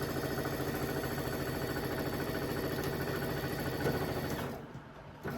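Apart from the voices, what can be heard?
sewing machine sewing a quilt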